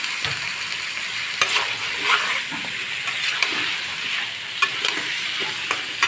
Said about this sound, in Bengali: মিষ্টি কুমড়া দেওয়ার পর আমি 15 মিনিট মতন কষাইছি